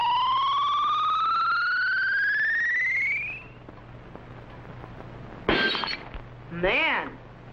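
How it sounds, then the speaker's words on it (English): Rising electronic whine of an ultrasonic ray in a 1956 sci-fi TV show, loud and steady for about three seconds, then two sharp shattering crashes of a glass jug breaking in a testing chamber. "whatever the beam hits will be instantly shattered by the ultrasonic sound wave vibrations"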